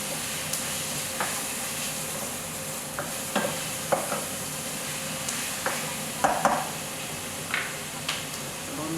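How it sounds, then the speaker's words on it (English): Tomatoes go into a pot of stewed okra, which sizzles steadily while a spoon stirs with scattered scrapes and knocks. "Next, I'm gonna add my tomatoes."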